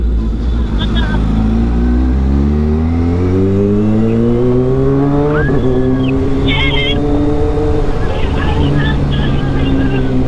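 A loud Kawasaki H2 SX motorcycle engine revs up, its pitch climbing steadily and pulling through gear changes, close by with faint voices underneath.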